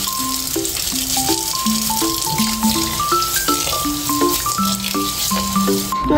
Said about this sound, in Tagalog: Ngayon, hugasan natin ang bigas.